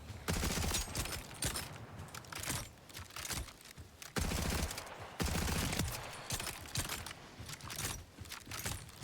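Rapid bursts of gunfire from weapons in Borderlands 4 rattle loudly in repeated volleys, near and dense, with brief pauses between bursts and faint talk underneath.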